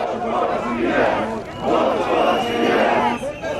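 Crowd of protesters in Hungary shouting rhythmic chants together, loud and fairly close, rising and falling in repeated waves of massed voices.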